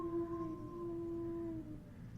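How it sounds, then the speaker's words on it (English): A single wolf howls in WolfQuest, one long steady tone that bends slightly downward before fading out. It sounds fairly near and clear over a faint background. "Maybe we'll give a nice howl while we're down here"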